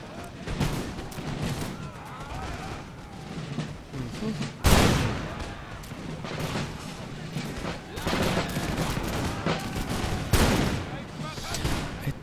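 Musket volleys and cannon fire crackle through a battle in the video game Empire: Total War, dense overlapping shots with louder bursts and a heavy boom, under intermittent talk from players.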